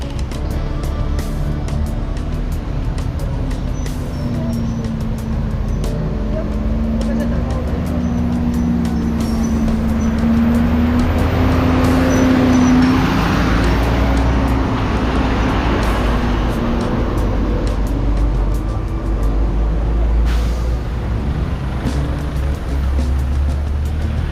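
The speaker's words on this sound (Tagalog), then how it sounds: "Traffic." Road traffic noise on a street under construction, a constant loud rumble of passing vehicles with an engine tone rising and falling near the middle and faint voices mixed in.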